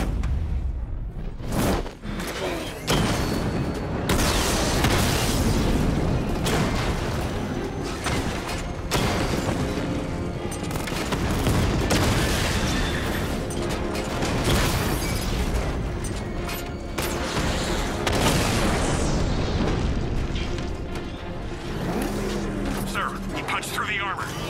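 Heavy tank cannon blasts from the Batmobile in Batman: Arkham Knight hit armored tanks, loud repeated booms and bursts over a dense battle din with mechanical rumble, while a voice talks over the action.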